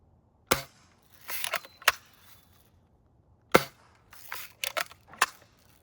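A Western Justice Lil' Sure Shot toy gun is test fired in trick shots, giving sharp, close cap-gun-like cracks with brief rattling and clicking handling noise between them, two main shots about three seconds apart.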